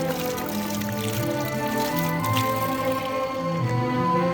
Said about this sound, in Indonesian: Di tengah hutan kita ketemu sama pancuran air ini.